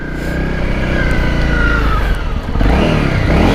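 A motorcycle on an off-road rally ride revs steadily and loudly up close, its engine note rising and falling with a brief dip before surging again, with no talking over it.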